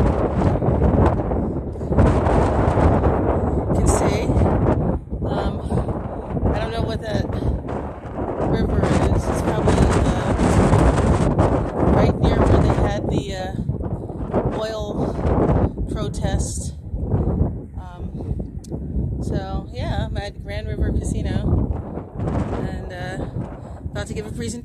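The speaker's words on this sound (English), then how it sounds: "It's very windy here." Strong wind buffets the microphone at a scenic overlook on tribal lands in South Dakota, a loud continuous roar with gusts rising and falling, while a person talks throughout.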